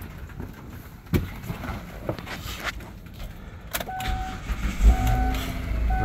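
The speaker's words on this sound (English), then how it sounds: "let me crank the vehicle and see what's going on" A 2004 Kia Sedona EX is cranked and started up close, with sharp clicks and clunks, then a steady idle hum and rumble settling in over the last couple of seconds.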